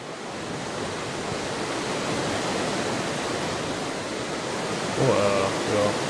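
A waterfall in the video game Starsand roars as a dense, constant rush of falling water, loud and close. A voice enters briefly near the end.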